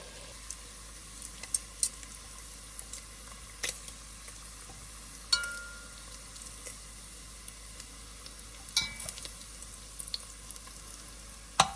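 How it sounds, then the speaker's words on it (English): Bacon strips fry in a pan as the base for New England clam chowder, making a quiet continuous sizzle broken by occasional sharp crackles and pops, close, with no voices. "Bacon is cooking perfectly."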